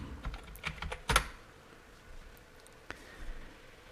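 A short burst of computer keyboard typing as a password is entered on a Windows 10 login, a handful of quick clicks then a lone keystroke, soft and close.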